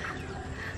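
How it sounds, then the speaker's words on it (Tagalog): Farm chickens clucking at a low level in the background, a soft continuous murmur of fowl without distinct single calls. "Manok"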